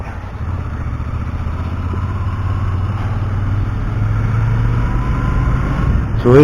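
Royal Enfield Interceptor 650 motorcycle riding through a city in the early morning, its steady low engine drone continuous and close, swelling slightly as speed builds.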